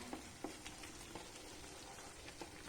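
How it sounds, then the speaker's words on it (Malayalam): Melting butter gently sizzling in a pan while being stirred to make ghee, a soft continuous frying crackle with faint scrapes of the spoon, quiet and close. "ഇനി നമ്മൾ ഇതുപോലെ ഇളക്കി കൊടുത്തുകൊണ്ടേയിരിക്കണം."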